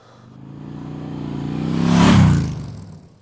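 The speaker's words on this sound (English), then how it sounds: "that is a monster of a bike coming through from Moto Marini" Moto Morini adventure motorcycle passing by: engine drone swells over two seconds to a loud close peak, then fades quickly as it moves away.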